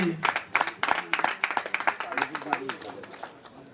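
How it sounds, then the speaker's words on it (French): Scattered clapping at a union meeting as officers are announced, a dozen or so distinct hand claps in a loose rhythm from a modest crowd, with a little background talk. "Ça s'applaudit"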